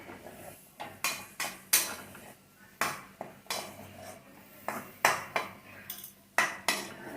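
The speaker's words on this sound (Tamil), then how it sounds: "போட்டு ஒரு கிளறிக்கலாம்." Potato fry with coriander and curry leaves stirred in a pan, a series of sharp metallic scrapes and clinks of a spoon against the pan, about a dozen strikes at an uneven pace, close and clear with no talking.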